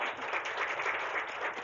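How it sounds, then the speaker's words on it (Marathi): A gathering at a youth seminar applauds a student, giving a brief burst of steady, moderately distant clapping from many hands with no talk. "त्याच्यासाठी जोरदार टाळ्या होऊ द्या."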